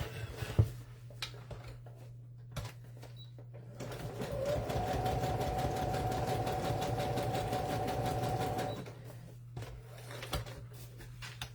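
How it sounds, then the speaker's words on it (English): A sewing machine stitches across the bottom of a glued paper ticket pocket for a junk journal, running in a steady close whir for about five seconds between scattered handling knocks and a low background hum. "I've just glued my pocket shut, and I'm going to sew across the bottom to hold it together"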